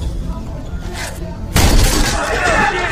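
Film shootout between police and a cartel gang: a sudden loud burst of gunfire and shattering erupts midway, preceded by quieter rumbling action noise.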